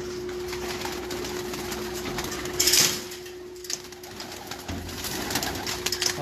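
Flying pigeons kept for kabootar bazi cooing softly over a steady low hum, with a brief clattering burst near the middle and no speech.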